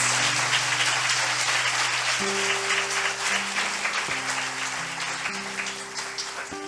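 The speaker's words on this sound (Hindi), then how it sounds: "क्या हम इस वचन के लिए ताली बजा सकते हैं?" Congregation clapping inside a church during a Hindi-language sermon, steady dense applause under sustained organ or keyboard chords that shift pitch, fading slightly toward the end.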